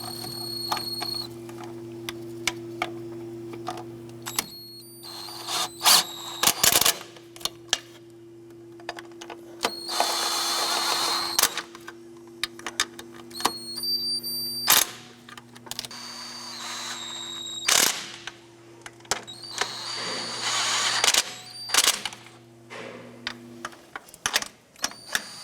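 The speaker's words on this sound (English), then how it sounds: "Now on our intake bolts, we're just going to snug these down" A ratchet clicks in short bursts while intake bolts are snugged down on a 1994–2004 Chevy S10 during fuel injector replacement, sharp repeated ticks separated by pauses over a steady low hum.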